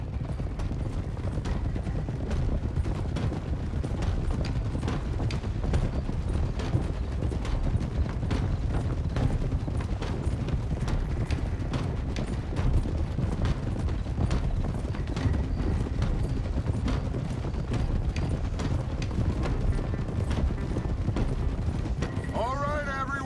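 Horses' hooves clip-clop steadily in Red Dead Redemption 2, a dense, continuous rhythm of close hoofbeats with faint creaking tack and a brief high whinny-like sound near the end.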